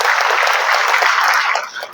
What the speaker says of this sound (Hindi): इस अभिनंदन के लिए भी जरा आशीर्वाद के लिए ताली दें आप।